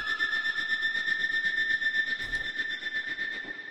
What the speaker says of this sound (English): Oh, whistling. Love me some whistling.